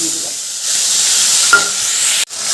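A loud, close hiss of tomato, ginger and green chilli paste sizzling in hot oil holds steady, with a brief clink midway and a sharp knock near the end.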